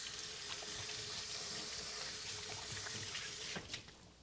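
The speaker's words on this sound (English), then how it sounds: "Let me just give my hands a quick wash." Hands are washed under a running kitchen tap, a steady close hiss of water splashing into the sink that cuts off near the end, followed by a couple of small knocks.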